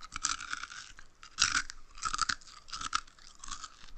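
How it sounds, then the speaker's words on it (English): Reheated McDonald's fries are chewed close to the mouth, with steady crisp crunching and crackling bites in an uneven rhythm and no talk. "Also, I'm eating crunchy fries."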